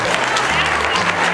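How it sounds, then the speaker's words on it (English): Loud, dense applause from a quilting show audience fills the room for a short burst, with a voice faintly present underneath. "give her a round of applause"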